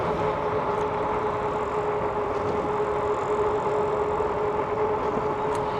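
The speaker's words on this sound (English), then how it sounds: "what you're hearing is actually the highway and one of the streets that run along with it" Constant highway traffic and a parallel street rumble along the North Branch Trail bike path, a steady dense wash of passing vehicles heard from a distance, with no talk.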